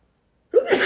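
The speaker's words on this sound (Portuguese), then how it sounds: "e eu vou espirrar" After a moment of silence, a single abrupt sneeze bursts out close by, loud and breathy.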